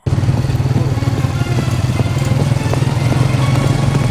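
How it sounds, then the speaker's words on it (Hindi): A motorcycle rides between farm fields in Punjab, its engine a loud, close, steady drone with a throbbing low hum that holds unbroken for the whole stretch, with no voices. "आने वाला यह मोटरसाइकिल सवार बेचारा इन खेतों के दरमियान चला आ रहा था।"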